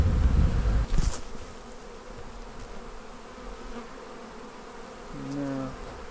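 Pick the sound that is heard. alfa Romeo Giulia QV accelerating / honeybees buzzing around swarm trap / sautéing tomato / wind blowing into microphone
honeybees buzzing around swarm trap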